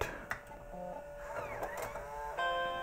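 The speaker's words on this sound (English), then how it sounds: "That was the sound of the diskette that was" A motorized diskette drive in a 1989 Macintosh Portable whirs and clicks as it ejects a disk, with a short mechanical hum and a few soft ticks, close and fairly quiet.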